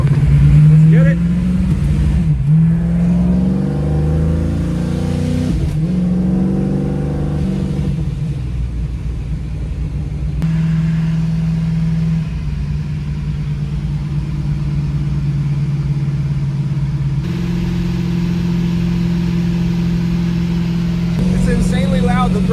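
A procharged 1968 Chevrolet Nova revs and accelerates from inside the car, its loud resonant exhaust rising and falling in pitch through several pulls, with a steady rumble and occasional voices.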